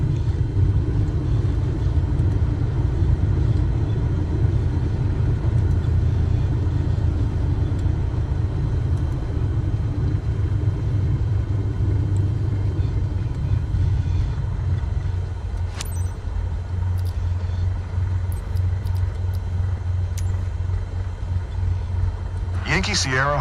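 A Cessna on its takeoff run in Microsoft Flight Simulator 2024 gives a loud, steady engine rumble that thins out partway through. Voices can be heard over it.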